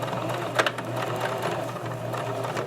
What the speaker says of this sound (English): I'm going to sew right on the edge of the pocket, as close to the edge as I can get